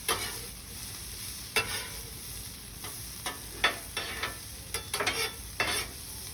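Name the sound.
asparagus frying on a hot griddle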